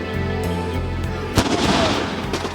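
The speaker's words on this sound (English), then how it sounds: "guns with live ammunition are fired directly above their heads" Live-ammunition guns firing over soldiers during night army combat training, a sharp loud crack followed by rumbling bursts and echoing reports against a steady low drone.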